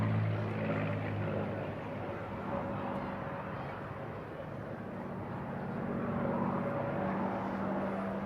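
A P-51 Mustang propeller fighter flies overhead at a seaside airshow, its engine a steady, moderately distant drone with a broad rumbling low end and faint tonal hums, holding for several seconds without any talk.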